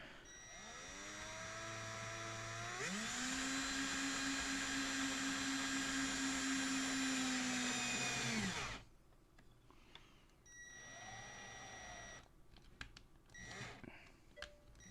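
A power driver whines while screws are driven into a small arcade board, its motor ramping up and holding a high, steady tone for several seconds before cutting off abruptly. Quieter handling clicks and short tool bursts follow.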